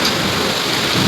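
Heavy thunderstorm rain lashing down outside a house during lightning, a dense, steady, loud roar of pouring water with low rumbling underneath, no voices.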